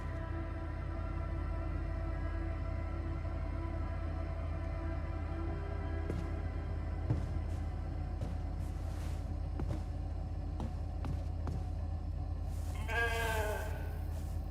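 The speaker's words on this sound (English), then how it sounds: "Never thought I'd be so glad to see a sheep." A sheep in the video game The Alters gives a short, clear bleat near the end over a low droning ambient hum and scattered soft clicks.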